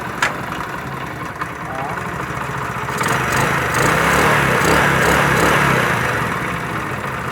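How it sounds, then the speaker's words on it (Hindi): A repaired motorbike engine runs close by at a steady, buzzy idle, then picks up slightly in revs partway through, with a voice speaking over it. "वही बाइक है, इसकी आवाज़ आप सुने, फ़र्क पता लग जाएगा आपको।"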